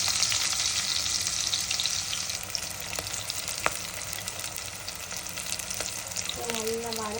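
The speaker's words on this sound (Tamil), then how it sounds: "நம்ம கடுகு தாளிப்பு போட்டுக்கலாம்" Mustard seeds tempering in hot oil for sambar give a dense, continuous crackling sizzle, close and fairly loud, with a few sharp pops and a faint clink near the end.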